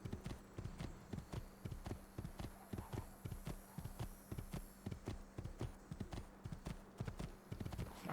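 A horse gallops in Assassin's Creed 2, a steady rapid run of hoof clip-clops with a faint background hum and no talking.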